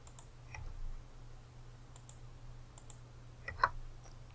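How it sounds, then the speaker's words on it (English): A few quiet computer clicks sit against a low steady hum, including a brief sharper click near the end, as a tool is selected and backspace is pressed on a computer. "Just click the area where it is, and click backspace."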